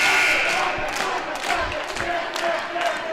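A high school basketball crowd cheers and shouts in a gym on homecoming night, a dense, loud roar of many voices with whoops rising throughout.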